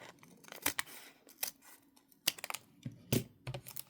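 Scissors snip through wax seal packaging in several sharp, close cuts spaced irregularly, crisp and isolated against near silence.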